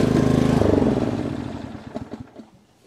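A Cub Cadet CC30H hydrostatic riding lawn mower engine shuts off: a steady close putter that winds down over a couple of seconds into slowing, uneven knocks and then fades to quiet.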